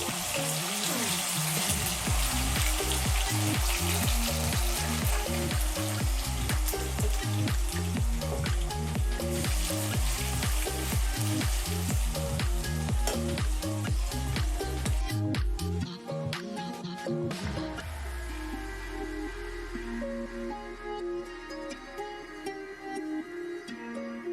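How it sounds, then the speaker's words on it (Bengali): Chicken fries in hot refined oil in a wok over a gas flame, giving a dense, loud sizzle that turns calmer and softer partway through, with no talking. "এবার আমি চিকেনটাকে ভেজে নেব।"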